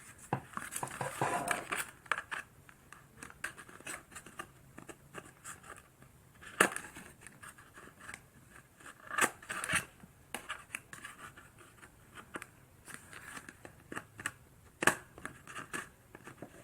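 Scissors cut through the packaging of a Popin' Cookin' Ramune Land Japanese candy kit in quiet, close, irregular snips, with crinkling and rustling of the wrapper between cuts.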